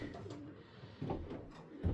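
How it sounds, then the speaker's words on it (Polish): About 61 pigeons in a loft coo softly and repeatedly in low, throaty murmurs, close by in a quiet enclosed space. "w tym gołębniku jest 61 gołębi"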